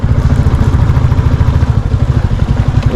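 A motorcycle thrums loudly up close, riding off-road on a slippery mountain trail, its engine pulsing unevenly with rattling clatter as the rider eases along.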